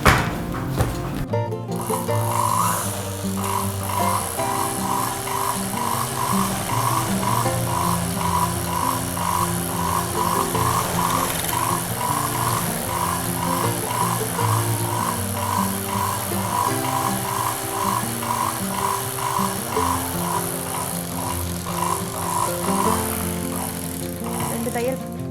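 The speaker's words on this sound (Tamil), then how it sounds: "நான் இந்த துணி நொழுக்குன்றதுக்காக நடுவில் ஒரு ஸ்டிச் கொடுக்க போகிறேன்." A sewing machine stitches across a mat in a fast, steady run of needle strikes lasting most of the clip, near and clear, with a short start-up at the beginning and a mechanical hum underneath.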